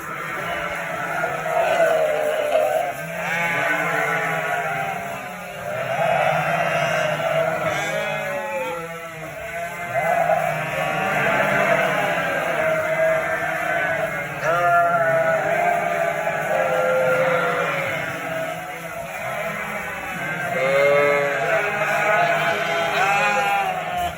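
Ewes bleat repeatedly and loudly for their newly weaned lambs, several animals calling over one another in overlapping, wavering cries that continue throughout.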